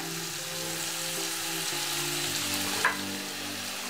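Onion, green chili and peanuts fry in oil for vegetable poha, giving a steady, close sizzle that runs unbroken throughout, with one brief louder crackle near the end.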